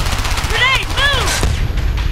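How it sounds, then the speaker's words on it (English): Heavy gunfire crackles loud and close in the Homefront: The Revolution video game, with overlapping shots and a whistling, warbling tone sweeping through the middle of the burst. "Under heavy fire."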